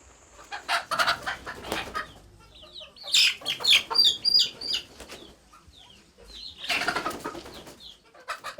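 Poultry kept by youth and women's groups near Makongo Sand Dam in Kenya cluck in several bursts, with a brief crow and some wing flapping, close and fairly loud with quiet gaps between.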